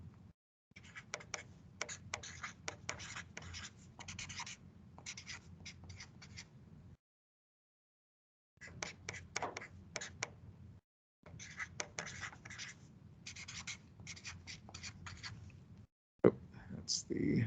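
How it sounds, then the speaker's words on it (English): Pen scratches handwritten figures onto paper up close in quick bursts of strokes, broken by short pauses and a couple of longer silent gaps, with no talking over it. "I'm just writing that information down"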